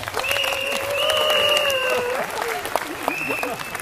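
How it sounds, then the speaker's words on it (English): Audience applause fills a hall, a steady wash of clapping heard alongside sustained tonal lines and a voice speaking over it. "Please give yourself and the person who invited you here a round of applause."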